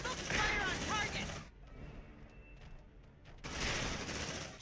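Rapid automatic gunfire rips through a firefight in the sci-fi game Aliens Dark Descent, in two loud sustained bursts separated by a quieter lull of ambient rumble.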